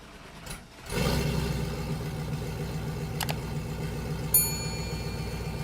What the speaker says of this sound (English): give you a real sound of that new exhaust and those new long tube headers